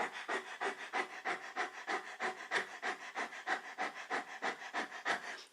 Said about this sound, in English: Get this breath across the tongue.